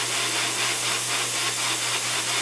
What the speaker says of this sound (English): all I'm doing is concentrating most of the spray at that arch in the center of the piece